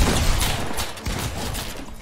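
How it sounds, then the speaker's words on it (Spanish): Dense gunfire in a shooter video game, rapid overlapping shots and bursts from several weapons, loud and continuous with a brief dip midway. "¿Cuántos tiros me están cayendo, loco?"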